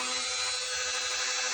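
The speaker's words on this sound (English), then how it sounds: "when you use a Dremel, you want to go the direction that it's turning" A Dremel rotary tool works on craft material at a crafting table, a loud, steady high-pitched grinding whine held without pause.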